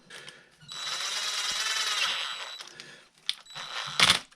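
A powered screwdriver whines steadily for about two seconds while driving screws into a Traxxas Wide-Maxx RC car, then gives a short burst. Small clicks from the tool and parts are heard between the runs, close and without talk.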